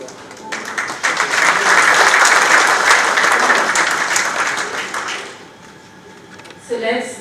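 A large audience applauds loudly and densely at a brand launch curtain raiser for the Bharat Tex 2024 textile expo, sustained for about five seconds before fading, with a voice coming in near the end.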